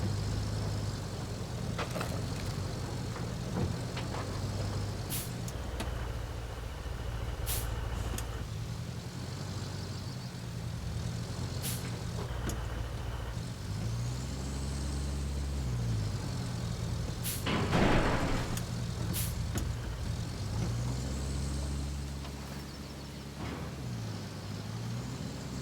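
A cargo crane truck from the video game RoadCraft drives steadily, its low engine drone continuous and fairly faint, with occasional hissing air-brake bursts and clunks over the rumble and rising engine whines near the end.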